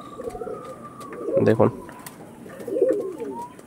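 An original Pulsar-breed female tournament pigeon coos in two short throaty bursts close by, while someone talks over and between the calls.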